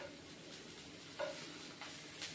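Oil sizzling in a pan while a meal-maker masala curry is stirred, a continuous soft hiss with a few brief scraping stirs, close and fairly quiet.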